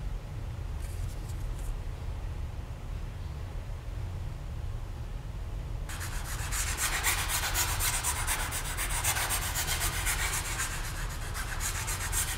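A file or rasp scrapes along the edges of a drypoint intaglio plate to bevel it, a steady gritty rubbing that swells into a louder, brighter rasping stroke pattern partway through and continues without talk.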